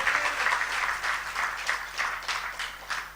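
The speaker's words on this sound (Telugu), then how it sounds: "ఒకసారి చప్పట్లు కొట్టి దేవుని స్తుతిద్దాం." A church congregation claps together in praise of God, a dense, steady burst of applause with loud rhythmic swells lasting a few seconds, close and bright.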